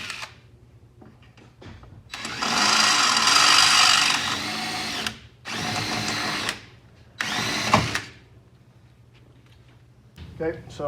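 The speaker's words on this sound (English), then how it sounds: "we're gonna just drill those out. I'm just using a 3/16 drill bit" Power drill with a 3/16 drill bit boring out fasteners during a turbo system install on a Can-Am Defender, in several sustained whirring bursts separated by short pauses and quiet workshop noise.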